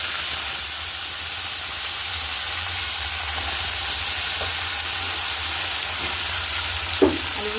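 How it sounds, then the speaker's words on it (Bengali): Cut potato pieces fry in hot oil tempered with nigella seeds, a steady close sizzle and hiss that carries on evenly, with a brief clink of a utensil near the end. "আলুগুলো দিয়ে আমি ভালো করে আলুগুলোকে ভেজে নেব।"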